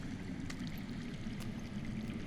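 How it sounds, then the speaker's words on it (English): Underground water runs in a Game of Thrones game scene, a faint steady trickling and flowing wash with a few small splashy bursts, quiet and continuous. "That's water. I hear water. From underground."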